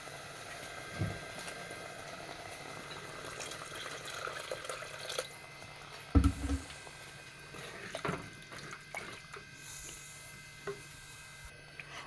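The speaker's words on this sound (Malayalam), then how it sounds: "കുറച്ചുകൂടെ വെള്ളം ഒഴിച്ചു കൊടുക്കണം." Water is poured into a simmering pan of fish curry, giving a soft, steady splashing and trickling with a few sharper clinks against the pot, moderately close under low kitchen background noise.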